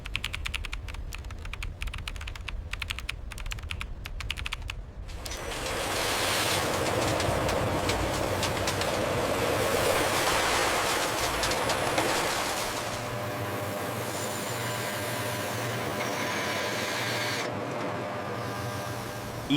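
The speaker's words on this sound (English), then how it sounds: "Powerful cold heading machines precisely cut the metal wire. Extreme pressure then shapes the material," Factory cold heading machines cut and shape metal wire into screws: rapid metallic clattering gives way to a dense, loud, continuous mechanical roar with rhythmic pounding.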